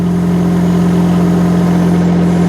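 A mini excavator's engine runs at low revs, a steady, loud, even drone with a constant low hum and no break or change in pitch.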